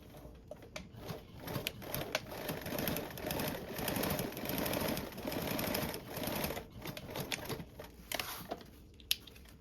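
A sewing machine stitching a 1/8 inch seam in bag fabric runs in steady bursts of rapid needle chatter, close and fairly loud, with short pauses between runs and no voices.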